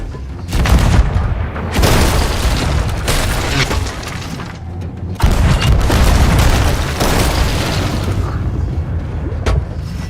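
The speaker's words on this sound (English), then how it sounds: "Stop blowing holes in this ship! Keep firing!" Heavy booms of cannon fire and explosions tear across a pirate ship in the Sea of Thieves game, loud and repeated in dense rolling bursts with crashing debris between them.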